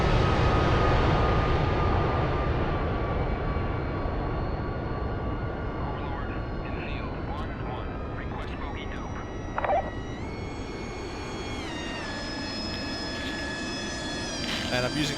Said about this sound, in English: Let's watch some AV8s take off here.